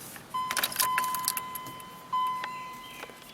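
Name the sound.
turning the ignition key on a Chevy Caprice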